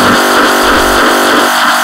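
A Noise Engineering Ataraxica Teratos synth module drones with a dense, steady, buzzing tone, loud and alone, with a subtle pulsing in the low end.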